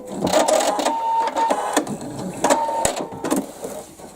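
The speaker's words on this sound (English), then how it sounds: "just give a little satin stitch over the top again, about 7 or 8 stitches" A sewing machine runs a short burst of satin stitches over embroidery on a fabric panel, a near, loud rapid mechanical chatter with uneven pulses and brief pauses, no talk.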